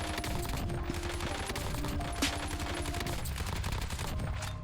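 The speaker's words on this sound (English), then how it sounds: "The thing that you want to do with this gun is keep shooting" Rapid, steady automatic gunfire from a low-recoil, fast-firing meta loadout weapon in a video game, continuous bursts held nearly unbroken throughout at close, loud level.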